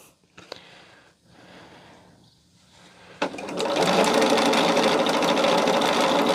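A sewing machine that sounds loose starts up partway through and runs steadily and loudly, after quieter handling noises and breaths at the start.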